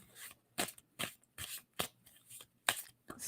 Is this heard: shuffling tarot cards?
yes